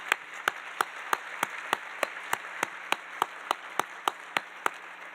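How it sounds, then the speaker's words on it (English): Sparse, evenly spaced hand claps at a university recognition dinner, about three per second, sharp and moderately close over a steady hum of room noise, with no crowd swell. "Let's give them a round of applause as well."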